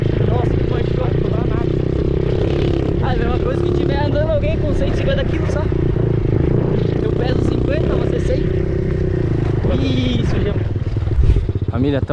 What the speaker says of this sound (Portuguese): Vamos de mini moto até uma altura, daí vamos pegar.